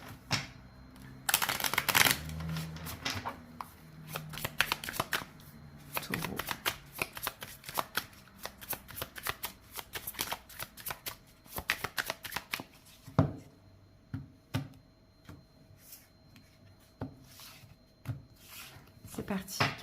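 Tarot cards shuffled by hand in rapid crisp riffles and taps, close and clear, with dense bursts early and intermittent softer shuffling later; someone speaks in between.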